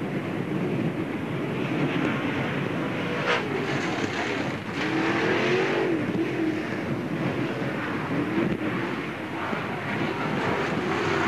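A NASCAR Busch All Star Tour race car laps Freeport Raceway in 1997, a continuous engine roar heard from a moderate distance that swells and fades slightly as it circles, with no talking.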